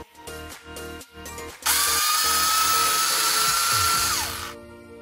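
A kitchen mixer grinder whirs loudly and steadily for a few seconds while grinding boiled chillies into paste, preceded by rhythmic clattering knocks as the jar settles.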